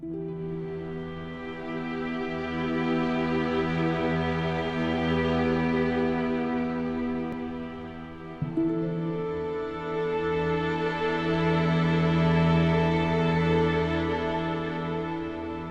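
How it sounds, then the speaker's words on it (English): Slow, sustained ambient music from the Firelink Shrine area of Dark Souls, with layered held string-like tones and a soft swell, briefly dipping and resuming near the middle, steady and calm throughout with no voices. "This is the music you hear at the Firelink Shrine"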